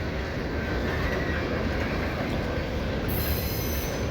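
A freight train rolls past at a rail junction near Lincoln, Nebraska, a steady, loud broadband roar of wagons and wheels throughout, with a faint high wheel squeal appearing toward the end.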